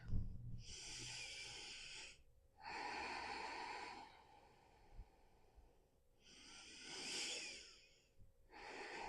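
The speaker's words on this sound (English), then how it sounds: "Take a nice deep breath in and exhale" Deep yoga breathing in a forward fold: slow, airy breaths close to the microphone, alternating long inhales and exhales with hissy texture in a calm rhythm, quiet overall and without speech.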